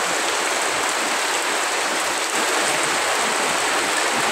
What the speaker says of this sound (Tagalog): At least naman ngayon guys, ulan na lang, hindi malakas yung hangin.